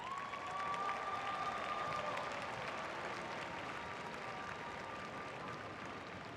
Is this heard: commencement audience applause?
yes